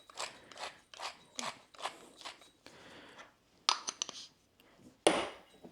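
A pepper grinder cracks fresh black pepper in a series of close, quiet ratcheting twists, roughly a dozen short grinding bursts with brief pauses, alone without talk.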